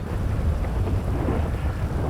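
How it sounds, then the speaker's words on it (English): Steady rain falls throughout, a dense, even hiss with no break and no voices. "It also started raining."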